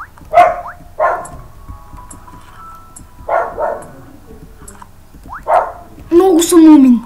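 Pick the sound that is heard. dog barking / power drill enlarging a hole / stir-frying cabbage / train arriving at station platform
dog barking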